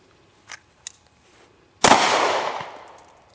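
Two faint clicks are followed by one loud, close pistol shot at a shooting range, its crack ringing out in a long decaying echo.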